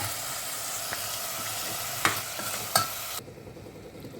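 Cauliflower, potato and spices sautéing in a pan for kurma give a continuous close sizzle with a few sharp spoon scrapes, then the frying sound drops away abruptly near the end.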